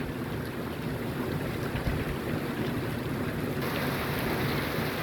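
Steady, dense rain pours continuously during a moderate thunderstorm with hail, with a broad wash of noise and low rumbling underneath, no voices present.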